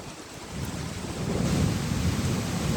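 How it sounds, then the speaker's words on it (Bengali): During a rainstorm with strong wind, a deep thunder rumble swells and rolls on beneath a constant roar of wind and rain, growing louder toward the end. "বজ্রপাত হচ্ছে এবং অনেক জোরে জোরে বাতাস হচ্ছে।"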